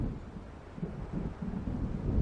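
Distant thunder of an approaching storm over open water in the game Alan Wake Remastered: low, rolling rumble with wind noise, swelling slightly toward the end.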